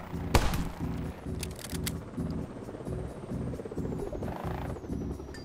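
Helicopter mode in the PC game My Friend Pedro gives a steady rhythmic mechanical chopping with repeated gunfire bursts, loud and continuous with a sharp shot near the start.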